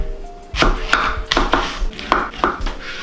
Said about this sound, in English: apparently we have to slice this and this as well